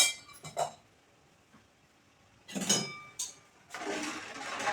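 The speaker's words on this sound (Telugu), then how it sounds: "మనం వడకట్టుకున్నాం కదా, అది దీంట్లో పోసేసుకుందాం" Strained melted jaggery syrup poured into a pan for ragi porridge, heard as short bursts of liquid splashing and gurgling with clinks between quieter pauses, fairly close.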